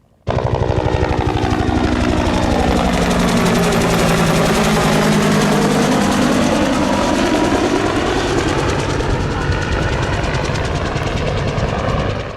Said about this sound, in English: the Huey flew directly over us, making for this pretty awesome video